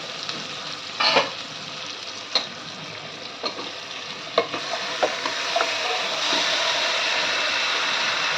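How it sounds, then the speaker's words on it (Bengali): Marinated chicken fries with golden onions in a pan, a continuous close sizzle punctuated by sharp spatula knocks against the pan, with no talking. "এবার আমি দিয়ে দেব মেখে রাখা চিকেনটা।"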